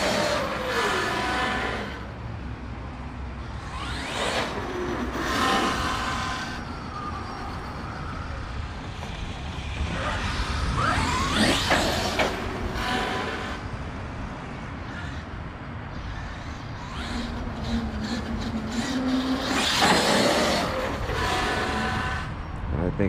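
An Arrma Kraton 8S RC car with a 2028 motor revs in repeated short bursts, its whine rising and falling in pitch against steady background noise.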